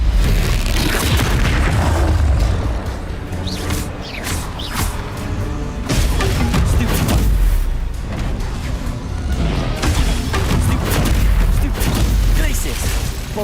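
Repeated booming blasts from the Bombarda spell in Hogwarts Legacy roll through a noisy battle, with rumbling impacts recurring every few seconds amid game effects and a voice talking.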